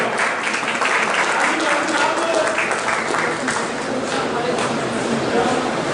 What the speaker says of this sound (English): A big round of applause, Muhammad Ahmed.